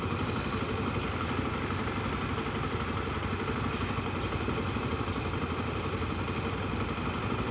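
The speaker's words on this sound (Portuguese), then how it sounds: "Ei, Emerson, olha a tua moto aqui." A Honda XRE300 motorcycle idles steadily close by, a continuous low rumbling engine with a light mechanical clatter and no talking over it.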